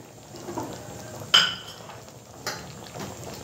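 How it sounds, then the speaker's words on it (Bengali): A metal lid is set down on a pan of frying brinjal fritters, a single sharp clink over a faint, low background hiss, with a softer knock shortly after. "আমি এখন ঢাকা চাপা দিয়ে দিলাম।"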